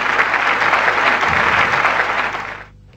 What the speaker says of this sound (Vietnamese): Chúng ta cho một tràng pháo tay khuyến khích